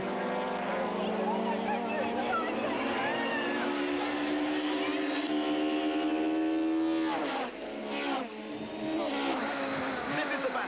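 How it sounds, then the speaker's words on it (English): Nissan and BMW touring cars in a 1993 Supertouring race at Killarney circuit, engines whining and rising in pitch close together, then shifting as they pass, under steady commentary. "Val is glued to the rear bumper of Joubert's BMW"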